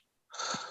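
A single short sneeze bursts out sharply after a quiet moment during a spoken sermon, brief, close and breathy.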